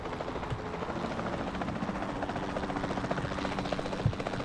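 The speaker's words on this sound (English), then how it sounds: "You don't seem very phased by the helicopter, do you?" Steady rotor drone from a helicopter in the dinosaur park game Jurassic World Evolution 2, a continuous low whir holding at even loudness throughout with no voices.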